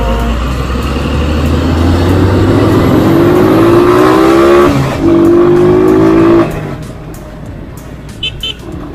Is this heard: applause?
no